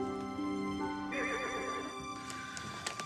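Horse whinnying in a Christmas film scene: one drawn-out, wavering neigh rises in the middle of a sustained tonal backdrop, with a few faint clip-clops toward the end.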